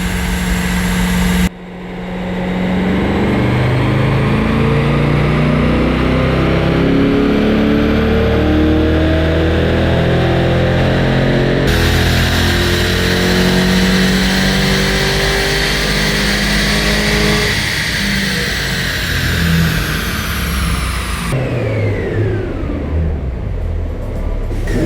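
A 2024 Corvette E-Ray in its most aggressive race mode, run on a dyno without a full battery charge, roars loud and close under sustained throttle, its engine note climbing in sweeping pitch across the pulls with a brief break between runs.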